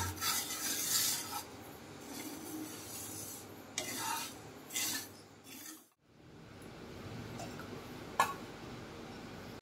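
Dry lentils being stirred in a hot pan with no oil, making a steady scraping, rasping rustle with repeated bursts as the spoon sweeps through, close and alone, with a brief lull near the end.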